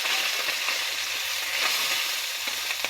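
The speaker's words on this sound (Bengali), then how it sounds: "মাছটা এভাবে ভালোভাবে ভেজে নেব।" Pomfret fish fry in hot oil with a loud, dense, unbroken sizzle, close and steady for the whole moment, with no talking.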